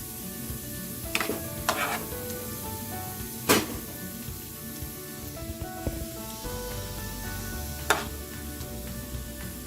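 Mushrooms and peppers frying in a pan for a hearty breakfast, with a continuous sizzle, occasional stirring scrapes and a few sharper clacks of the utensil, heard close with no voices.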